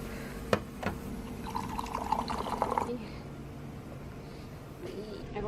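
Hot water pouring into a cup for green tea with lemon, a short trickling pour after a few clicks, fairly quiet and close, then fading into low background noise.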